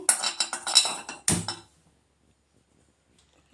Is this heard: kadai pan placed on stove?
yes